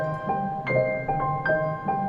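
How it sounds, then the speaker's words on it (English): A simple harp pattern adds high-end texture to a beat, plucked notes ringing out in a steady rhythm over a low backing, clear and up close. "Next I added this harp for some high-end texture."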